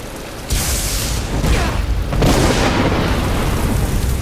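A shock spell in Skyrim strikes an enemy with a sudden crackling blast, followed by a second loud electric burst, both sharp and close with a rumbling tail.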